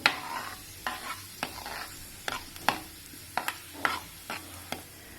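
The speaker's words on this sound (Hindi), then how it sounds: "आप इसमें अजवैन और मेथी दाना डाल सकते हो और फिर से इसको थोड़ा सा हिलाते रहो" Ajwain and fenugreek seeds in hot mustard oil: a soft, steady sizzle under repeated light scrapes and taps of a spoon against the pan, close and fairly quiet.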